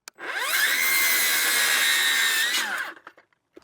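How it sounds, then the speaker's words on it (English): A circular saw whines steadily through a cut in fence wood for about three seconds, loud and close, then spins down, followed by a few small knocks. "we'll cut that with our skill saw and it should butt tight up against that post"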